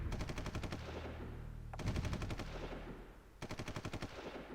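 Artillery in the strategy game Supreme Ruler Ultimate fires in rapid rattling bursts, three volleys of quick repeated shots each trailing off into rumbling echo, moderately loud with no talk.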